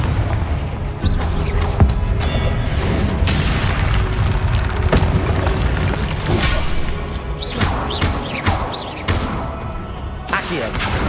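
Confringo spell explosions from Hogwarts Legacy, a string of loud booms and shattering crashes one after another, with a voice heard in the dense mix of game combat.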